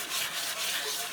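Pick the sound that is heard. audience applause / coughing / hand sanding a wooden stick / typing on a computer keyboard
hand sanding a wooden stick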